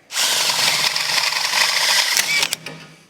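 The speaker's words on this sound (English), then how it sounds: "I'm just gonna drill a hole in the bottom" A power drill whines loudly and steadily for about two seconds as it bores a hole into the bottom of a car's catalytic converter, then winds down with a few clicks.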